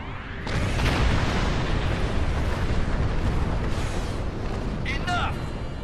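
A Doomsday Weapon firing indiscriminately: a sustained roar of explosions and booming blasts, loud and continuous, with a few brief higher zaps near the end and voices speaking under the din.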